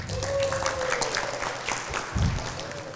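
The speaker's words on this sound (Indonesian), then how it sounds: "Tepuk tangan." Applause from an audience at a talk, a scattered clatter of claps running under a voice, with a brief louder swell near the end.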